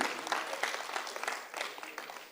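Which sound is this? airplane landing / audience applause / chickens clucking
audience applause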